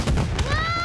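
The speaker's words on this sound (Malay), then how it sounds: "Ada letupan yang kuat tadi." A loud, close explosion in an animated children's show bursts out with a heavy boom, followed by a ringing whistle-like tone as the blast fades.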